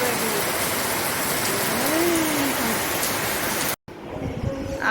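Steady rain falls in sunshine near hills, a dense, even wash of drops that stops briefly at a cut and then resumes with a faint voice in the background.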